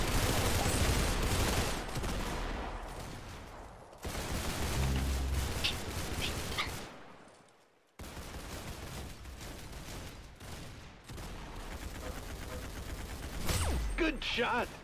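Musket and other weapon fire in a Roblox Arsenal match rattles through dense game noise in several loud, continuous stretches broken by brief drops, with a voice talking over parts of it.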